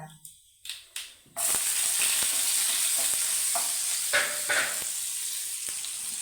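Shallots drop into hot oil where mustard seeds have already popped, a few sharp clicks of seeds first, then a sudden loud, steady sizzle of frying with light stirring taps, close by and with no voices.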